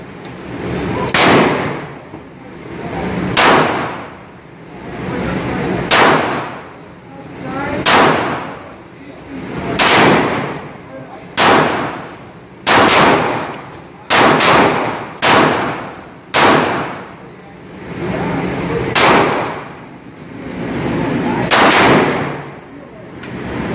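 A new Taurus PT809 pistol fires about a dozen loud, close shots at uneven intervals, each a sharp crack with a ringing tail.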